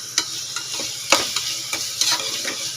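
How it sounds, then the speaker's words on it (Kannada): Onions fry in a small amount of oil in a pan, a soft steady sizzle broken by a few sharp scraping stirs, close up with no talking. "ಇದು ಒಂದು ಸ್ವಲ್ಪ ಫ್ರೈ ಆಗಲಿ."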